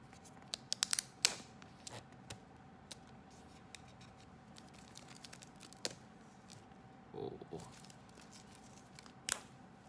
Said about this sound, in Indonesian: kita akan coba unboxing seri terbaru dari AirPod, yaitu AirPod Pro